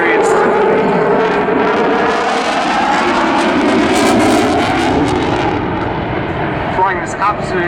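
A military jet at the Southport Airshow 2019 roars loudly past, a powerful sustained engine rumble with a shifting pitch that fills the whole stretch, close and overwhelming.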